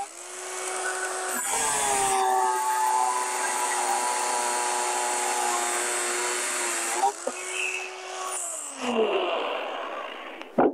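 A power tool cuts through steel rebar rods for foundation reinforcement, a steady loud whine running for several seconds and then winding down, with a brief restart near the end.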